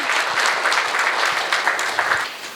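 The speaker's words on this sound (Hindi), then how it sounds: "एक बार तालियां हो जाएं" Loud, close applause from a studio audience at a Hindi discussion show, a thick burst of many clapping hands that holds steady and then begins to ease off, with no talking over it.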